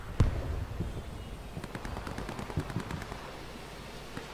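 Gunfire in a WWII shooter game: faint, scattered cracks and short rattling bursts in the distance, with one sharper shot near the start, played without any talking.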